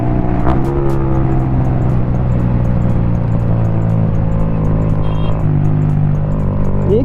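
A modified Yamaha MT 15 motorcycle engine revs loudly and continuously up close, its pitch rising and falling over a steady rough drone, with no talking.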